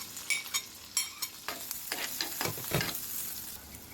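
Onion sizzling in hot oil with garlic and ginger while cooking millet haleem, with a quiet steady fry under a string of sharp scraping stir strokes and no talk.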